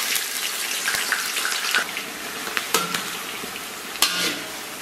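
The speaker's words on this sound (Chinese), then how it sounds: "简单给它煸炒一下，激发出这个葱姜蒜的香味" Scallion, ginger and garlic stir-fried in a wok over caramelized rock-sugar syrup, a steady sizzle with scraping stirs and sharp clatters of the spatula, close and continuous with no talking.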